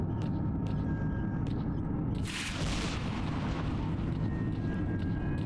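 A grenade explosion in S.T.A.L.K.E.R.: Shadow of Chernobyl, one sudden loud burst that rolls off into a rumbling decay over a continuous low background drone.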